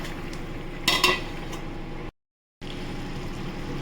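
A lid clatters onto a pot of simmering prawn curry, a short metallic clink and rattle standing out over a low bubbling hiss before a brief break.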